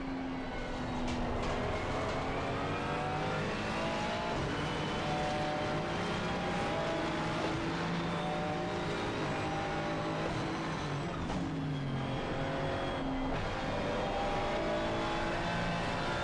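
McLaren Artura race car driven in iRacing at Kyalami: a continuous engine note with rising and falling harmonic revs through gear changes, steady and prominent with no talking.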